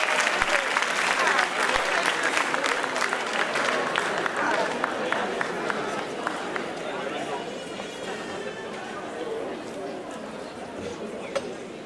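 An audience applauding at an excellence and retirement ceremony in a national theatre, dense sustained clapping from a large crowd that slowly thins, with voices faintly beneath it.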